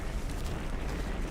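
A volcanic eruption rumbles steadily with deep guttural roaring while debris drops all around, a dense continuous low-heavy roar with no talk.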